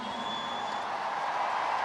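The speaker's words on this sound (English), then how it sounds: "I think the cheer from the crowd says it all." Crowd cheering for the England women's rugby team at the 2021 World Cup final against New Zealand, a steady broad roar of many voices that holds at a fairly even level throughout.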